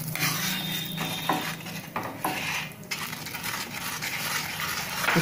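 Manchow soup being stirred in a pot after arrowroot slurry is added to thicken it, giving steady close scraping and clinking of a spoon against the pot with a continuous low bubbling simmer underneath.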